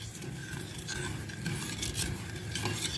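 Sweet potato pudding batter with grated nutmeg and ginger extract being mixed in a bowl, a steady close scraping and stirring rasp that runs continuously with no talk.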